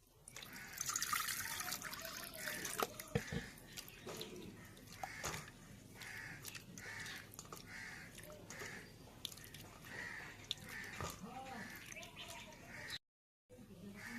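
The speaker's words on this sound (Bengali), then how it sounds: "আর আরেকবার জল দিয়ে ভালো করে ধুয়ে নিব।" Flour dough being washed by hand in water in a village kitchen, with steady sloshing, dripping and trickling water throughout, a few louder splashes near the start, and a brief silent gap toward the end.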